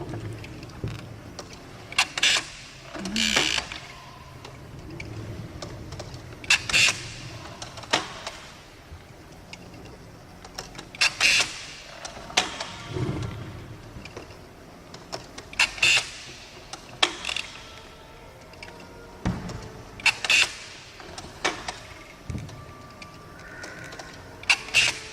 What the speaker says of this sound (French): Il revient tremper sa plume dans l'encrier. L'encrier se retire pour qu'il fasse le changement.